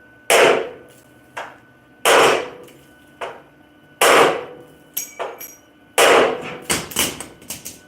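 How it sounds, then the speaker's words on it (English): Metal hammer blows land on a weld on a 1969 El Camino: about a dozen sharp, loud strikes, some single and some in quick clusters, each ringing briefly, with no talk. "I'm going to try hitting it with a hammer."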